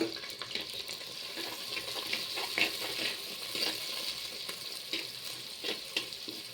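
Onions frying in oil in a clay pot for a fish curry with okra: a soft, steady sizzle with light stirring scrapes, faint and continuous, with no talk.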